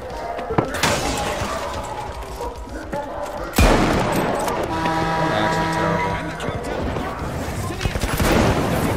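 Rifle shots and bursts of gunfire in a Terminal Attack sniping match, loud close cracks including one sharp heavy shot, with a player talking over the action.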